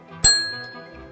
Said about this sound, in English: The bell is sort of like an old-fashioned one that they use in hotels.